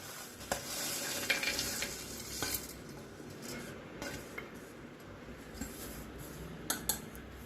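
Coriander, coconut, garlic, green chillies and peanuts being stirred in a hot pan, a soft continuous sizzle under scattered spoon scrapes and light taps on the metal.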